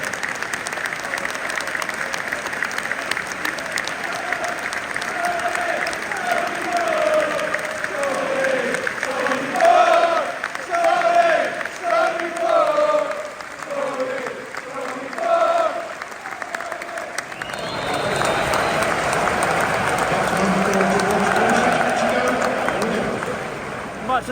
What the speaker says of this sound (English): Please join us for the next applause and recognition to celebrate the life of a true football legend.